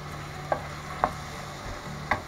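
Metal utensil scrapes and taps against a pan every half second or so over a low, steady sizzle of frying nectarine for a hot sauce.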